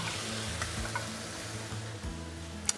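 Onion sears in a dry pan next to ox cheek for a slow-cooked stew, giving a soft, even sizzle with a low rhythmic hum beneath and a quick clatter near the end.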